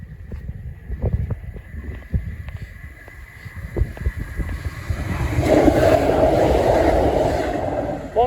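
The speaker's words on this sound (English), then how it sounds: "Here's train 1 of 2." A train passes Blue Gowt level crossing with low rumbling and rattling that builds into a louder, broader roar of rolling stock near the end, mixed with outdoor wind noise.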